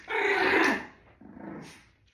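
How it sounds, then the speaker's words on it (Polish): A dog growls nearby in an indoor room, one rough rumbling growl followed by a second, quieter one. "teraz mojego psa w tle."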